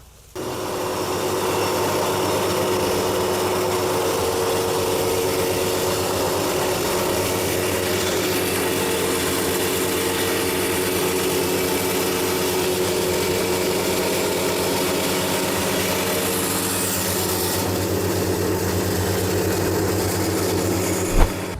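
A flour crusher mill grinds rice into coarse meal, a loud continuous rumbling roar with a steady grinding rasp that holds for the whole stretch before cutting off, no talk.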